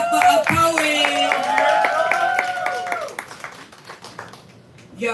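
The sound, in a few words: audience clapping for a poet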